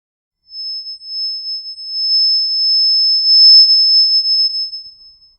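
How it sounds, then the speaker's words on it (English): A steady, high-pitched pure tone produced by something vibrating quickly holds for about four seconds, fairly loud and alone, with no voices. "That is the sound of the high pitch."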